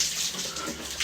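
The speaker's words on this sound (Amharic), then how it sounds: "በቧንቧ ነው እንዴ የምትታጠበው?" Shower water running and splashing in a bathroom, a short steady spray at close range with no talking.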